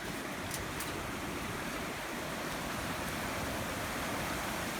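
A flooded river rushes through the Loxley Valley as a dense, unbroken roar of turbulent water, loud and close, holding steady throughout with no voices.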